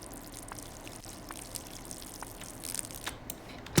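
Water pours and drips while plants are watered in the video game Schedule 1, a soft trickle with scattered droplet clicks and splashes, fairly quiet and alone.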